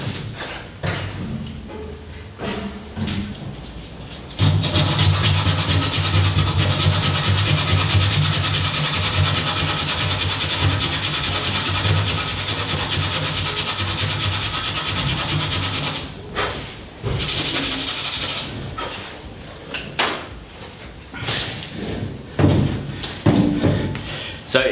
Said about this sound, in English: I scraped the paint off by hand and then sanded it by hand